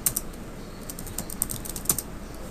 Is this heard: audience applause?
no